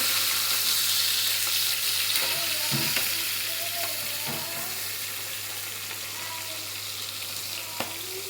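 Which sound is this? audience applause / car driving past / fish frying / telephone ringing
fish frying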